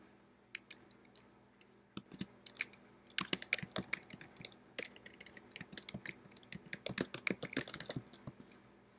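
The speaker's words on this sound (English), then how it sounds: "just click and start typing." Close, fast typing on a computer keyboard, with quick irregular clusters of crisp key clicks and brief pauses, growing denser toward the end, with no voices.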